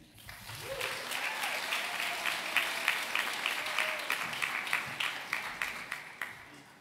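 Audience applause at a governor's summit on disabilities, a steady wash of many hands clapping through the whole stretch, with sharper individual claps standing out toward the end.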